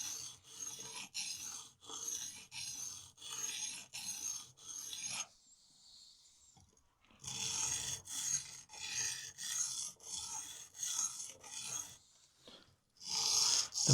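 A knife blade is drawn across a sharpening stone in repeated rhythmic rasping strokes, close and steady, with two short pauses between sets of strokes and no talking.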